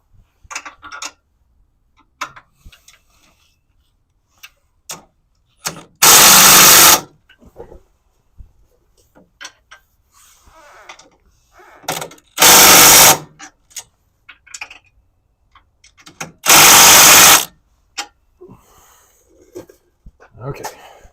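A swivel trailer jack having its bolts tightened with a power tool, heard as three loud, short whirring bursts spaced several seconds apart, with quieter handling clicks and rattles between them.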